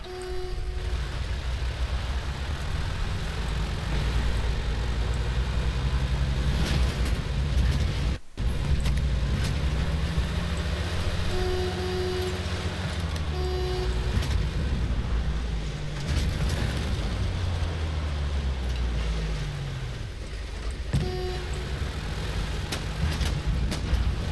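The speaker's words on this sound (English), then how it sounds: "There's a car here." A car engine in the Battlefield 1 video game rumbles steadily and loudly nearby, its low drone rising and falling in pitch with gear changes, amid faint battlefield noise and a brief dropout.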